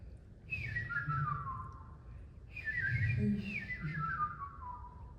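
A handheld bird whistle imitates birdsong in two bursts of bright, descending warbling trills, fairly close and loud over a low background hum, with no talking.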